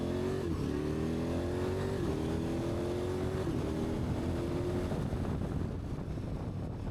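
A motorcycle engine revs and accelerates on a gravel road, its pitch climbing repeatedly through several gear changes over steady wind roar, then settling into a rougher rumble.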